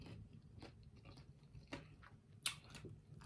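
Homemade fries being chewed close up: quiet, soft bites with a few faint crunches and one sharper crunch near the end, no talking.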